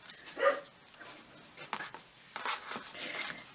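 Nelson the dog barks from out in the garden, a single distant bark early on followed by soft, faint scuffs and rustles in a quiet indoor space.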